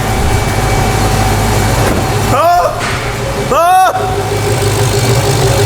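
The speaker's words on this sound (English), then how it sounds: "I think it's idling." A naturally aspirated Dodge Challenger Hellcat V8 idles with a steady low rumble, while a person briefly exclaims over it and a couple of sweeping tones pass through.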